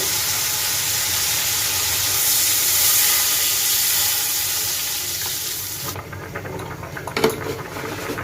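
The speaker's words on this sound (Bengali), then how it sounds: "তো এবার আমি জল দিয়ে দিব।" Water runs from a tap into a pan of boiled mango for a Bengali fish and mango sour dish, a loud steady hissing pour that stops partway, followed by faint clinks and handling noises.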